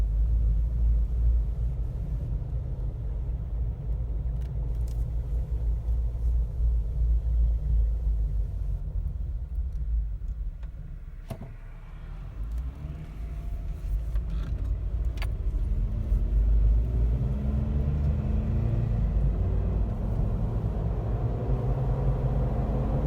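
Oversized tires on a Jeep JK roll along the road with a steady low rumble and vibration that fills the cabin, dipping briefly in the middle before building back up, with no talk.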